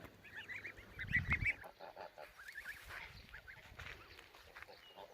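Young geese honk in short, close calls, a few squeaky bursts clustered early, with quieter honks scattered after.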